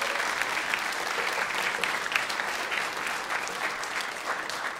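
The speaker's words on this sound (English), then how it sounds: "Let's give her a round of applause." A concert audience at a university orchestra event applauds in a sustained, even burst of many hands clapping, moderately distant and steady throughout without talk.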